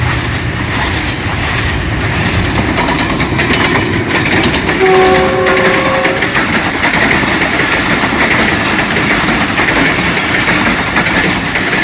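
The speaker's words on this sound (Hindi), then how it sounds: "210 डाउन फैज़ अहमद फैज़ पैसेंजर लाहौर पहुंच रही है।" A passenger train hauled by a ZCU20 locomotive arrives at Lahore station. Loud and close, its wheels rumble and clatter continuously, and a short sustained horn sounds partway through.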